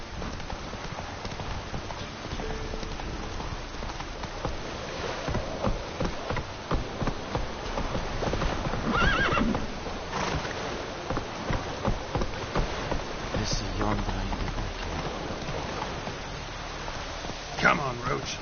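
Horse hooves clip-clop in a steady galloping rhythm from Roach in The Witcher 3 video game, moderately loud, with game music and a voice over the top.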